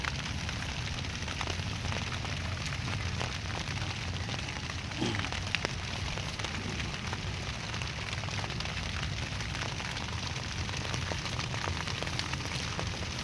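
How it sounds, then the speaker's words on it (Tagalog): Steady, dense rainfall hisses without a break over an eggplant field, a constant wash of noise with no voices or pauses. "grabing ulan mga ka-farmers kawawa ang ating mga tanim pag palaging umuulan"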